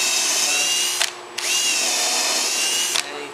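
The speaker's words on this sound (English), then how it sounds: "if you pulse it like this, that stops the screwdriver slipping out of the slot" A power screwdriver drives screws into the roof section of a wooden bug house, whining loudly and steadily in two long runs separated by a brief pause, with no talking.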